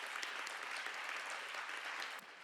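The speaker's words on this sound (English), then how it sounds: "I hope that you can applaud them and thank them for their fight." Steady audience applause filling a conference hall at the opening of a regional meeting for Europe, Central Asia and North America, dense continuous clapping that dips slightly near the end.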